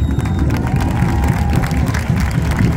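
A crowd applauds and cheers a parliamentary candidate at a Frente de Todos campaign launch in Cutral Co, dense continuous clapping with cheering and no clear speech.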